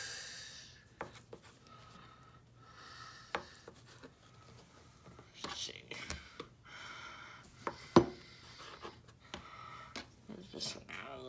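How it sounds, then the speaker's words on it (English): A knife cuts sausage into small slices on a board, making quiet, irregular taps and clicks with some sharper knocks amid soft handling noise in a calm kitchen. "I'm just going to cut it up in small little"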